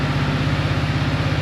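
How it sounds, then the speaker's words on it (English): A car engine idles steadily and close during a battery test under the hood. The low, even, pulsing rumble continues alone without a break. "Hopefully you can hear me over the car."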